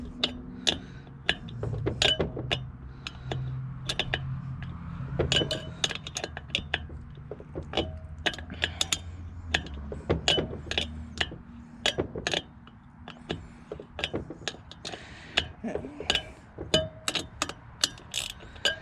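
Metallic clicks and ratcheting clinks of a wrench tightening hardware on a Yamaha WR400F motorcycle rim during a tire change, a steady run of close, sharp taps and ratchet strokes with faint low rumble underneath and no talk.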